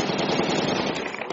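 Rapid automatic gunfire in a military video game, a dense continuous rattle of shots at moderate loudness with no pauses.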